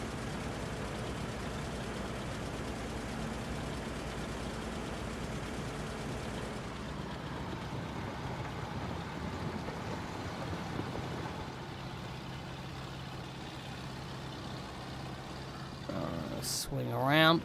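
Tractor engine in Farming Simulator 22 hauling a trailer loaded with about 14,500 litres of sugar beets, a steady low drone that carries on beneath continuous talk and swells briefly near the end.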